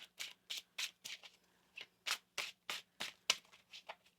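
A tarot deck is shuffled in about a dozen crisp, evenly spaced riffling bursts, close and fairly quiet, with a brief pause partway through.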